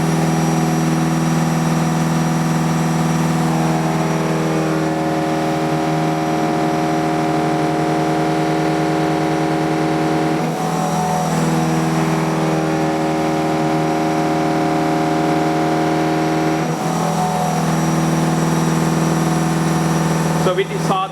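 Switched DFM motor drive in a lab setup switching between DC and AC mode, a steady loud hum with tonal whine and brief shifts in the sound, under a speaking voice.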